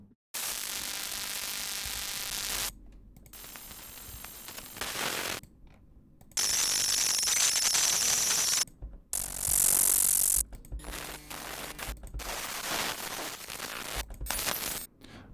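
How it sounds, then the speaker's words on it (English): A sequence of separate library sound effects: broadband static, white-noise hiss, a bright high-pitched crackle and scattered mechanical clicks and rattles, each loud burst cut off by brief silences. "And finally static and noisy sounds."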